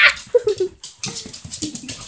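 Excited puppies play wildly, yipping, whimpering and giving short barks in quick, irregular bursts up close, with a brief gap partway through.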